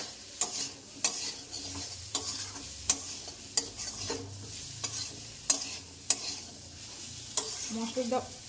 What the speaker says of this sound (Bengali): দিয়ে আলুর সাথে মশলাটা ভালো করে মিক্স করে নেব